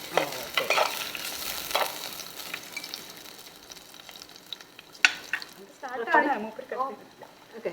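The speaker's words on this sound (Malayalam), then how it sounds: "ഇടയ്ക്ക് ചെറുതായിട്ട് ഇളക്കി കൊടുക്കൊണ്ടിരിക്കുക" Food frying in a pan in a Kochi kitchen is stirred now and then, with scraping strokes and clinks over a steady sizzle, close and fairly loud, with faint talk in the background.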